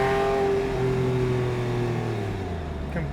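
A Porsche 911 997.1 Carrera 4S with Tiptronic automatic transmission drones loudly after a downshift to second gear, a steady, close engine tone whose pitch eases slightly downward over a few seconds.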